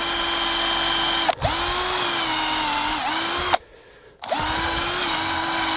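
A power drill whines steadily close by, briefly cutting out twice, with its pitch dipping as it bores into a kudzu vine root.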